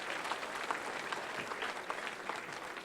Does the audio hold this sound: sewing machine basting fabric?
no